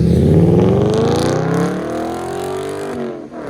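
A straight-piped 2004 Audi S4 4.2L V8 revs nearby, its loud, throaty, deep rumble sweeping up and settling back in pitch, with a brief dip at the end.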